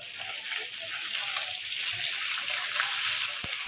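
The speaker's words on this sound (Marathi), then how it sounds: "गॅसवरती अशी फ्राय करायला ठेवायची आणि लगेच पलटी करायची" Freshwater fish fry in a pan on a gas stove, giving a dense, steady sizzle that is close and fairly loud throughout. A brief clunk near the end suggests the pan or a utensil being moved.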